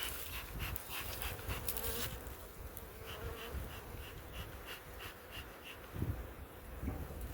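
Honey bees buzz steadily inside an opened backyard hive during a March inspection with a screened bottom board, a dense close hum holding throughout with faint background noises and occasional low thumps.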